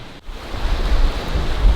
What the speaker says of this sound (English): with the waves crashing up and then all these big boulders